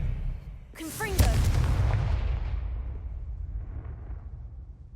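A Confringo fire spell explodes in the Hogwarts Legacy video game. A swooshing cast leads into a loud, heavy boom, followed by a long rumbling decay that fades over several seconds.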